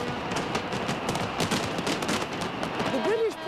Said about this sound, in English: Huge fireworks lasting 15 minutes, 40 tons of fireworks went into the air.